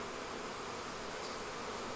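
A queenless, failing beehive gives off a constant low honeybee drone, even and unbroken from start to finish, heard up close with nobody speaking.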